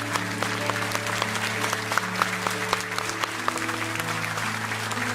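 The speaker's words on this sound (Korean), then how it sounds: "우리 장로님들 큰 박수로 축복해 주시기 바랍니다." A church congregation at a New Year's Eve service applauds its elders with steady, sustained clapping, while held organ or keyboard tones ring underneath throughout.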